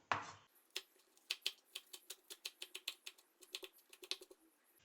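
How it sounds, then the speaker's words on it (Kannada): Fresh coriander leaves chopped with a knife on a cutting board in a home kitchen, a quick, close run of crisp taps coming in an uneven but steady rhythm, with no talk. "ಈಗ ಸ್ವಲ್ಪ ಕೊತ್ತಂಬರಿ ಸೊಪ್ಪು ಕಟ್ ಮಾಡ್ಕೊಳ್ಳೋಣ."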